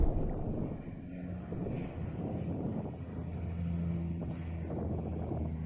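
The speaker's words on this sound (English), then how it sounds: "You can hear the windy conditions in this clip." Low, rumbling wind buffets the microphone steadily throughout at the site of a CL-415 Super Scooper crash in Italy, a dull roaring gust noise with no voices.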